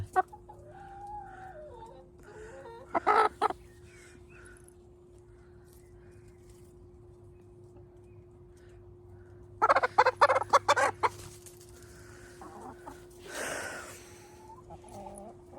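Short bursts of loud poultry calls, gobbling and clucking in two clustered outbursts separated by quieter stretches with a steady background hum.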